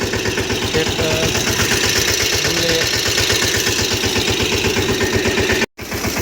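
Tractor engine running in a mango orchard during pesticide spraying, a steady throbbing idle with a regular low pulse, close and continuous apart from a brief dropout near the end.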